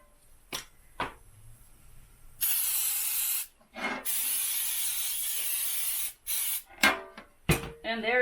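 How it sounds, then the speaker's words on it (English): Several bursts of cooking spray hissing into an 8x8 baking pan: a few short puffs, then one long sustained spray, then more short bursts, fairly close and loud with no talking over them. "And there's my cooking spray."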